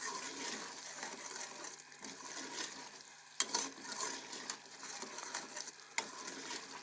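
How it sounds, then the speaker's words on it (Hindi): Daal mash with mixed spices fries on a high flame, giving a loud, rushing sizzle with watery crackle, interrupted by a couple of sharp stirring knocks. "इसके बाद फ्राई करेंगे इसको"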